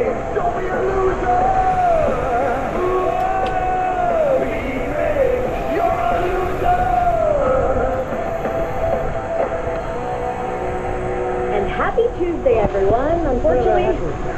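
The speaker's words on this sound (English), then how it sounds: "Do everybody scream and say it." Radio show hosts and callers scream and yell loudly over a busy studio mix, with whoops, shouted voices and music-like tones, all dense and close, with people talking throughout.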